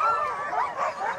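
Sled dogs at the Knik 200 race start yelp and whine excitedly in a dense, overlapping chorus close by, with no pauses.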